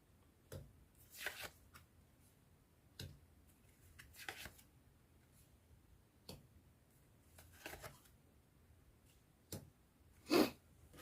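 Tarot-style cards for a reading are shuffled in several short riffling bursts separated by quiet pauses. The sound is close and soft, with a sharper snap near the end.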